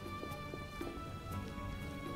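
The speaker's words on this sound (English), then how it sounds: "Raining cats and dogs." Rain patters steadily in The Witcher, a soft, even hiss with scattered faint drips, low and continuous throughout.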